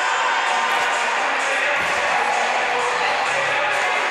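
A dense hockey crowd at a Utah State versus Utah game roars steadily throughout, a continuous loud wash of cheering and yelling with scattered shouts and no break.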